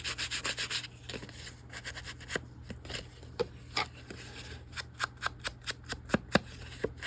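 Paper edges of an altered book journal being sanded by hand, a dry rubbing scratch in quick bursts, then separate short strokes with brief pauses between them, close up and steady over a low background hum.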